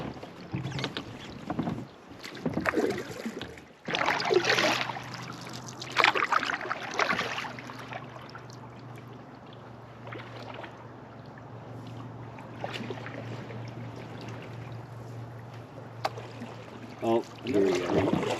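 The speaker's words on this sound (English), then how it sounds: "Never had the opportunity to bash icebergs with my canoe." A canoe bumps and scrapes through floating ice on high water in a swamp, with intermittent crunching knocks and sloshing over steady wind noise, near and fairly quiet.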